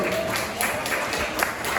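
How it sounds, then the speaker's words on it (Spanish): Church congregation applauding, a brief burst of crowd clapping mixed with voices, moderately loud and roomy, lasting under two seconds. "Pero un fuerte aplauso, Señor."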